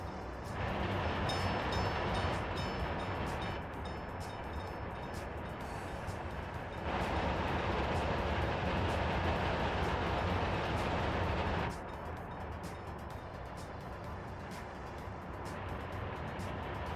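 A train rolling along the tracks in the Soviet-era city-building game Workers & Resources: Soviet Republic, with a steady, loud rumble and rattle of wagons that swells and eases in long stretches, with no talking.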